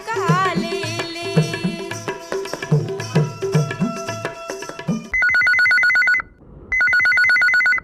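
After a stretch of Chhattisgarhi folk music, a telephone rings loudly for a radio phone-in call on Akashvani Raipur, sounding as a bright electronic trill in two long bursts separated by a brief pause.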